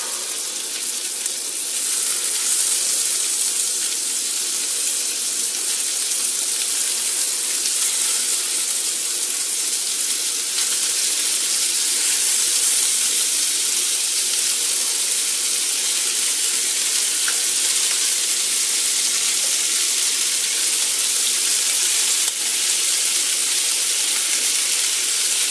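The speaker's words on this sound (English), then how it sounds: "we're going to get these in here and cook them slow now" Meatballs sizzling slowly in a pan, a steady, loud, hissing fry that holds unbroken throughout with no voices.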